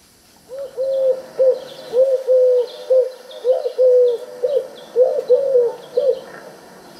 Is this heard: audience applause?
no